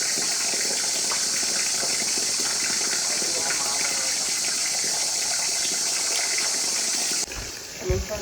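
Water from a spring at Sudhagad hill fort gives a steady, close rushing hiss that runs unbroken for about seven seconds before dropping away, with a few faint knocks at the end.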